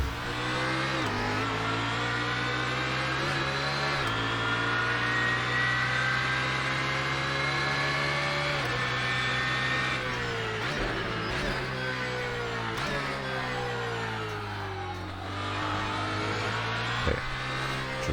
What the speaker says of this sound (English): Just warming up the tires right now.